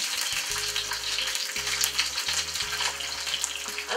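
Halibut sears in a hot pan, giving a steady close sizzle with brief tonal clanks and shifts as the fillet is flipped, with no voices.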